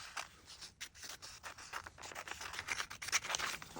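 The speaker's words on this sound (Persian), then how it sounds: "اینم از اینجا قیچی میکنم به این صورت" Scissors cut through crocheted work close up, making a run of quick, crisp snips and rasping scrapes with no talk over them.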